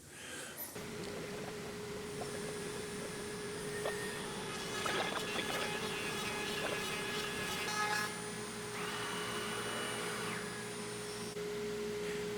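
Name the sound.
router surfacing pass over wood and epoxy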